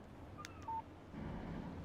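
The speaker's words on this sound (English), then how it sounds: "Text message from Barry." Short phone alert tones for an incoming text message in the game Alan Wake Remastered: a couple of quick electronic beeps, fairly faint, followed by low ambient game noise.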